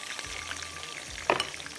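Chicken fries in a pan with a steady close sizzle, with a brief clatter of a utensil near the end.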